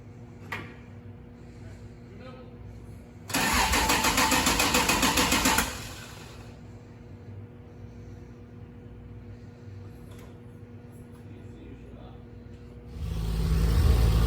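A 1.5JZ engine in an S14 240SX cranks with a whirring starter burst, catches briefly, then sits near idle under a faint hum before another loud burst near the end, close by.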